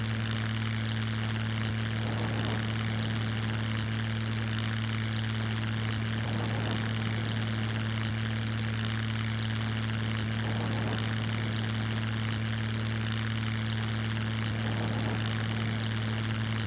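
Propeller airplane engine in the survival game SCUM, a constant loud droning hum with a steady throb, holding an even pitch from start to finish, with no voices.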